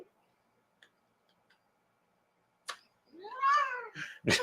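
After a few faint ticks, a cat lets out one long, drawn-out meow nearby, followed by a short sharp noise.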